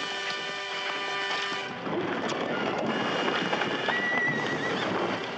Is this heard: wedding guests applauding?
no